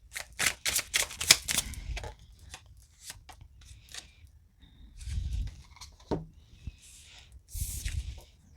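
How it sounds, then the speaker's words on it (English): Tarot cards being shuffled by hand, with bursts of crisp riffling and flicking near at the start and scattered softer card rustles and taps later, with no talking. "let me shuffle"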